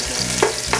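Garlic dropped into melted butter in a pan, a brief dense hiss with a couple of soft stirring clanks, close and fairly loud.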